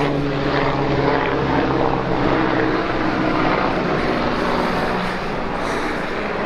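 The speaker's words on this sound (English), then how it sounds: "Helicopter billionaire flying over me." A helicopter flies overhead, its loud, steady rotor and engine drone close and continuous, fading slightly near the end.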